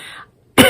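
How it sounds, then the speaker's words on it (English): A single abrupt cough from a woman recovering from illness, close and loud, following a brief moment of faint room tone with no talking. "I'm still just coughing."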